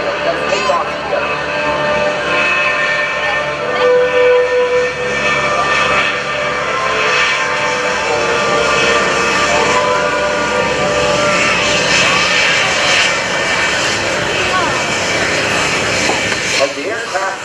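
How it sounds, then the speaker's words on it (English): A formation of GEICO Skytypers tail-wheel propeller planes taking off together at an air show, a loud, continuous roar of piston engines swelling and shifting as they roll and climb, with a voice talking over it. "It's especially difficult for tail-wheel aircraft because everyone has to run and roll together, lift their tails, and take off together."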